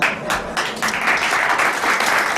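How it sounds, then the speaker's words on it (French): Studio audience applause on a 1993 French television talk show, dense steady clapping from a crowd that fills the whole moment with little talk. "Vous l'applaudissez pas en plus"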